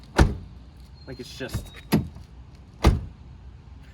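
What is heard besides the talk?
car door shutting on a 1991 BMW M5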